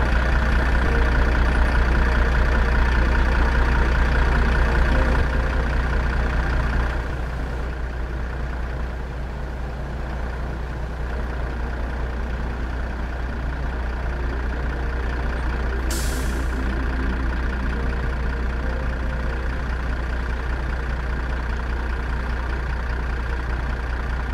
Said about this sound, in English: Activate the handbrake.